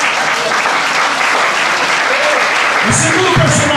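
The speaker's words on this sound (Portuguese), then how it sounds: "Pode aplaudir ao Senhor." A church congregation claps in sustained, dense applause throughout, loud and steady, with a few brief voices and shouts rising near the end.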